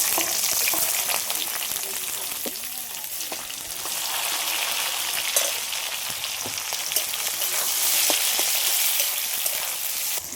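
Chopped onion and tomato frying in oil with white cumin, dry red chillies and bay leaves for a spicy mutton dish, a steady close sizzle with occasional stirring clicks, continuous throughout with no talk.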